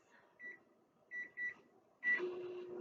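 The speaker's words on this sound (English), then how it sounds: "So I'm going to pop this in the microwave." A microwave oven heating a s'mores mug cake gives a few short, clear keypad beeps, then a steady running hum starts up nearby.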